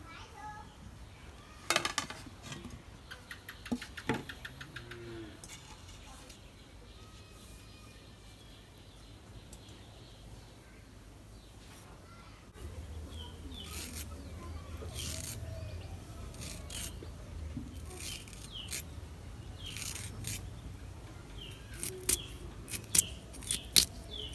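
Washed star fruit (carambola) being cut up by hand in a home kitchen, giving faint, irregular snips and scrapes, with rustling and a few sharper clicks toward the end and some low background noise.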